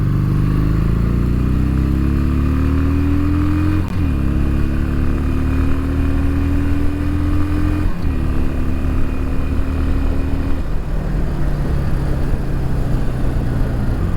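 A 2019 Harley-Davidson Iron 883 motorcycle on a test ride gives a loud, close engine drone that climbs in pitch through the gears, with brief dips at each shift, under steady wind rush.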